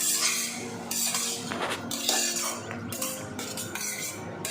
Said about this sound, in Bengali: এবার ঢাকাটা তুলে দেখে নেব সবজিটা হয়েছে কিনা